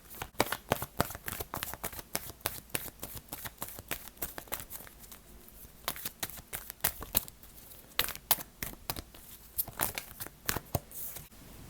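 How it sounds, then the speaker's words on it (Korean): Tarot cards get shuffled and drawn by hand, giving rapid papery riffles and snaps in quick irregular bursts, close and fairly quiet, with brief pauses between handfuls. "조언의 카드를 한번 뽑아보도록 할게요."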